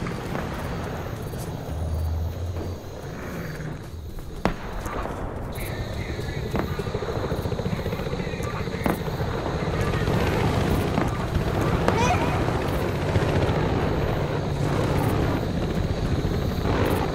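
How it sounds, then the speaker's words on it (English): A helicopter in the Battlefield Hardline video game whirs steadily over a busy combat soundscape, with a sharp impact early on, while a voice speaks intermittently. "the chopper."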